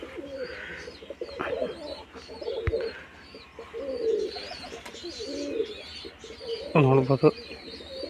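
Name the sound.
pigeons cooing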